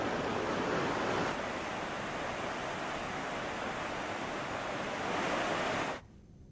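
Swollen Alaknanda river after heavy rain in Chamoli and Rudraprayag, a steady broadband roar of rushing water filling the whole clip before cutting off abruptly near the end.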